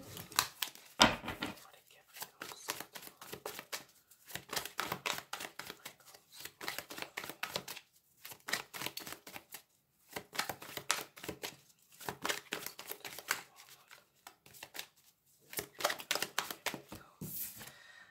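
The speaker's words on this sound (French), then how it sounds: "J'ai plein de cartes qui tombent." Tarot cards being shuffled and dropping onto a surface, crisp papery riffles and slaps in repeated bursts with short pauses, with someone speaking in between.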